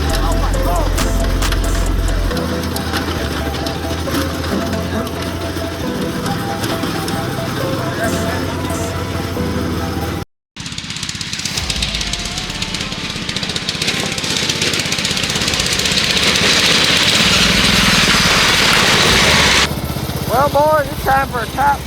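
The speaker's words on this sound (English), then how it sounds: "We got the mower warmed up." A homemade high-speed lawn mower engine runs loud and steady for most of the span, briefly cutting out midway before roaring back up, with voices talking over it.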